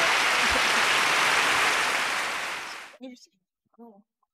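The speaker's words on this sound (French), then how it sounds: "j'aimerais qu'on applaudisse toutes les mamies, s'il vous plaît." An audience at the 2021 final of the Terr'eau Fertile competition applauds loudly and steadily for about three seconds, then the clapping stops abruptly and a few brief spoken words follow.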